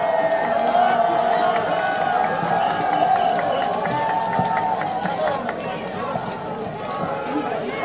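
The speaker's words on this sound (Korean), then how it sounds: "큰 박수 부탁드립니다" Outdoor election campaign rally crowd on a busy street in Haeundae, Busan, applauding and cheering steadily throughout, a dense continuous roar with chatter mixed in and a loudspeaker voice carrying over it.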